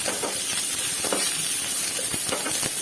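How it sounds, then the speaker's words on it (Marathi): Cut green chillies frying in hot oil give off a dense, steady sizzle and hiss, with small crackles popping through now and then and no voices. "ह्या कट केलेल्या मिरच्या मी या तेलामध्ये टाकत आहे तेल छान गरम झालं आहे"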